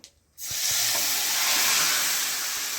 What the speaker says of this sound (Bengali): তারপর মশলাটাকে ভালো করে ভেজে নিল।